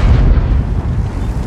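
A heavy tank cannon fires in World of Tanks, one loud, close boom that rolls into a deep rumbling decay over a second and a half.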